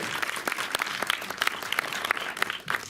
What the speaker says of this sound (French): Et grâce à Guillaume de Survivance, vous pouvez applaudir aussi